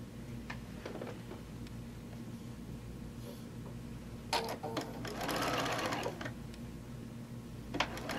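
A sewing machine stitches down quilt fabric, running in a steady continuous whir with a brief louder burst of stitching midway, close and alone with no talk.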